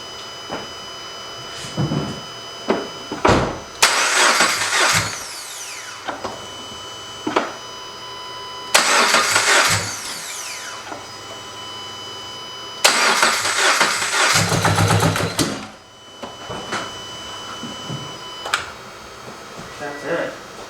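Subaru BRZ engine cranking with a whirring starter in several attempts, separated by gaps, with voices talking around it; one try briefly catches and then dies.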